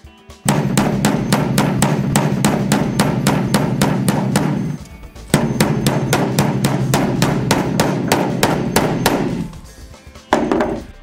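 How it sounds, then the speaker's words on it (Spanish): Rapid, steady hammer blows on metal, close and loud, in two long runs of evenly spaced strikes with a short pause between them, as the ears of a band clamp buckle are hammered down. "Empújela entre las orejas de la hebilla y martille las orejas de la hebilla"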